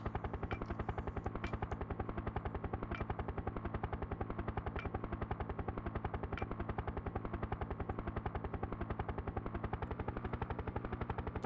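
Steady, rapid automatic gunfire from a helicopter shooter video game, Urban Strike, runs as an unbroken mechanical rattle throughout, with no talk over it.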